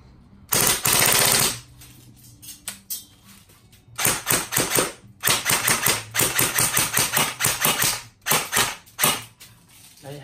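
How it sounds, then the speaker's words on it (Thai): A Cyma CM077A airsoft gun fires rapid bursts of BBs, close and loud. It gives several sharp rattling volleys of varying length with brief pauses between them, and no talk is heard over the shots. "หนึ่งวินาทีออก15บอล15 16บอลเป็นมาตรฐานของเซม่านะครับ"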